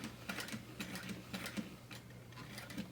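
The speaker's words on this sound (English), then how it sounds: "Backstitch at the top, and then I'm gonna make 1 line of stitching" A sewing machine stitches a strap connector onto a handbag, its needle tapping in a quick regular rhythm, faint and close, with no voices.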